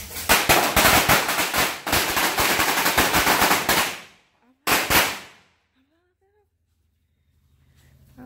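Strings of firecrackers pop in dense, loud rapid-fire bursts during an early-morning serenade wake-up, a long crackling run, then a short second burst, followed by near silence with faint voices.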